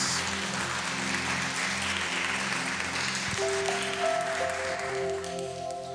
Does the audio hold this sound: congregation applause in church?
yes